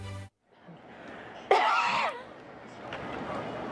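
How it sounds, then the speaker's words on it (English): A single sharp cough bursts out in a quiet room, close and short, after a brief voice at the start. "That was a cough."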